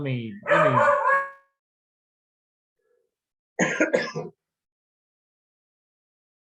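A dog barks indoors in two short bursts separated by several seconds of near silence. The barks are close and fairly loud, raspy and cough-like in tone.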